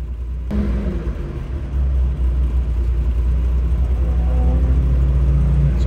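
A 1975 Chevrolet Cosworth Vega with a high-revving engine pulls along the road, its close, loud engine note rising steadily through the gears over continuous road rumble.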